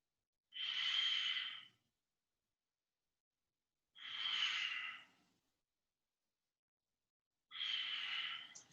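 Slow, deep breaths held through a yoga pose in a vinyasa class, three long airy exhales spaced evenly a few seconds apart, close and clear with silence between them.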